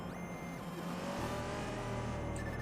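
A car engine drives steadily in the video game Watch Dogs 2, with a continuous, even motor drone and no speech.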